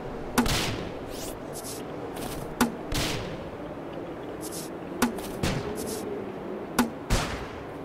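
Sharp single gunshots in the video game Starbound, about eight spaced cracks each with a short decaying tail, ringing out over a busy, noisy game backdrop.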